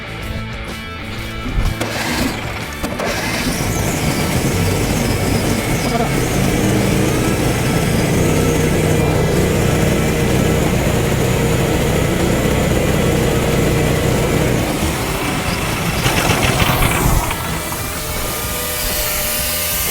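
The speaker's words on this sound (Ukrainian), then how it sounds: "Двигун качає тиск" A car engine runs steadily and loudly, its exhaust pressure piped off to inflate a tyre, a dense continuous roar lasting most of the stretch with a brief rise near the end.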